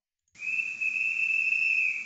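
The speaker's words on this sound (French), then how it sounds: "j'ai bien mon sifflet de gare" A station master's whistle, played through an ESU LokSound decoder, sounds as one steady, shrill, high tone. It starts sharply after a brief silence and holds evenly to the end.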